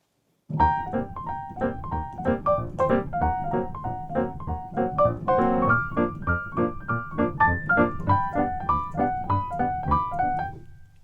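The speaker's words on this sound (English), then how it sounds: "Almost every stride piano player plays this lick." Solo stride piano plays a bouncy, fast right-hand lick over a steady left-hand bass, continuous and lively throughout.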